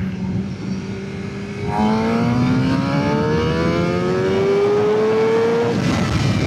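A Suzuki GSX-R600 sport motorcycle accelerating hard, its engine note climbing steadily in pitch through a sustained, loud run close by, with steady wind noise underneath.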